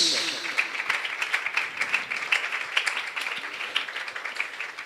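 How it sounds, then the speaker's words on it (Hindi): Congregation at a Sunday church service in Taj Pura applauding, a dense steady patter of many hands clapping throughout, moderately loud and close. "जोरदार तालियों के साथ"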